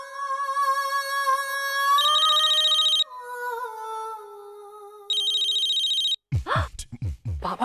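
A telephone rings with a loud, bright electronic melody of sustained tones and warbling trills that stop and start again, followed by an abrupt burst of different noise at the end, with no voices during the ringing.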